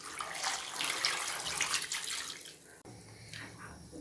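Water is poured into a pot of potatoes, peas and other vegetables for vegetable kurma, a steady close rushing splash for nearly three seconds, then a softer trickle.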